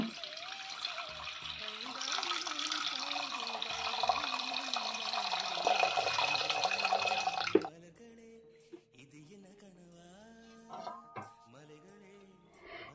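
Water is poured into a container to dilute fertilizer, a steady rushing splash that runs for several seconds and then stops abruptly. Quieter drips and a few handling knocks follow.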